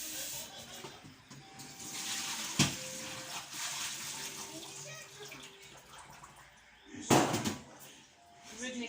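Fish is washed under a running tap with water and vinegar, a steady hiss of flowing water, two louder splashes, and a voice speaking over it.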